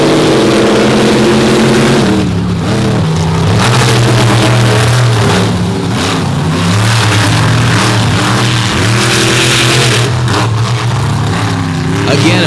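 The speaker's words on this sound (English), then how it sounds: "Here is a look at the semifinal round race between the two DCT Power Sports machines" DCT Power Sports race trucks in a semifinal drag race at the Summer Nationals, Bloomsburg Fairgrounds, Pennsylvania: loud engines rev and roar with rising and falling pitch sweeps, close and continuous.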